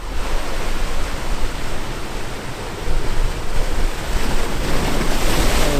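Sea waves surging onto the rocky Isle of Skye coastline, a steady, loud wash of surf with wind rushing across the microphone and no voices.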